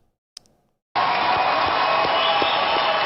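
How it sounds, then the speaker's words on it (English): Sustained applause from a comedy roast audience, erupting suddenly after a brief moment of quiet and holding at a steady, dense roar with occasional cheers mixed in. "Big applause."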